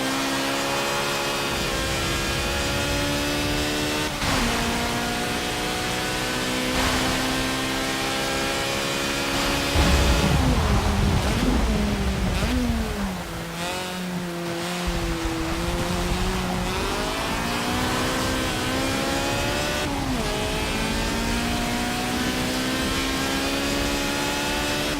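A rotary Wankel-engined car in Forza Motorsport 7 drives steadily, its buzzy engine tone holding near one pitch, then dropping and climbing again through shifts around the middle, loud and continuous with no talk.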